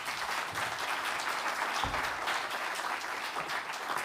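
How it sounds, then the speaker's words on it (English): A conference audience claps steadily, a dense wash of applause that holds at an even level for the whole stretch without fading. "Some applause for Luca, please."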